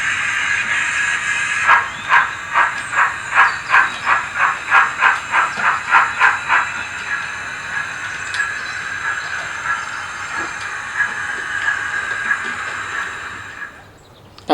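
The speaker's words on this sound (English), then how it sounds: "The departing train is now ready for its loco, which will run down the platform line to couple with the train." A railway locomotive running down a platform line to couple with a goods train: a steady steam hiss with a rhythmic run of about a dozen puffing chuffs early on, which fade into continuous hissing.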